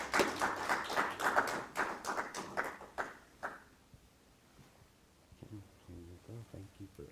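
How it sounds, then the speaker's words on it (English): A burst of clapping from a group, lively at first then thinning out after a few seconds, followed by quiet room noise and some soft tapping. "please join me in a round of applause for Ken."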